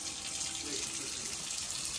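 Water runs steadily from a faucet, a constant bright splashing hiss at moderate volume with no pauses.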